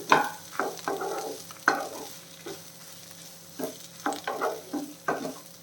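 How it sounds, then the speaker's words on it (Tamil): A spoon stirs and scrapes chow chow chutney around a pan, giving irregular scraping strokes over a faint sizzle, close and fairly soft, with no talk. "நல்லா கிளறி விட்டுட்டு நல்லா ஆற விட்டுருவோம்"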